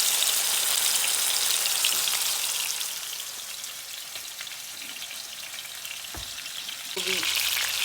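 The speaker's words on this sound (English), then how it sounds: "And I put it in this warm oil. You need to saute it on all 4 sides." Chicken sautéing in warm oil for murg mussallam, a loud crackling sizzle that eases midway and swells again, with a sharp knock of a utensil toward the end.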